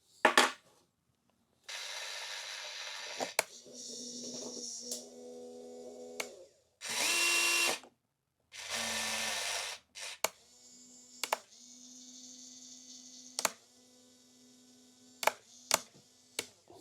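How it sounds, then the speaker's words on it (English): A hobby-grade Huina RC excavator works its claw to grab a hex driver: whiny motor bursts in short runs with gaps, steady servo hum, and several sharp clicks and taps of the claw and metal tool, nearby and fairly quiet. "Now we'll see if the claw can pick up this hex driver."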